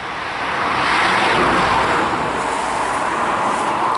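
A car passes on the road beside railway tracks, a broad whooshing roar that swells over the first second or two and then slowly fades, heard alone without talk.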